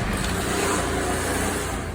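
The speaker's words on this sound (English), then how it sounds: "Sorry if you could hear the traffic outside." Steady road traffic drones outside an open door, a continuous low rumble of passing cars and trucks with no pauses, fairly loud and alone.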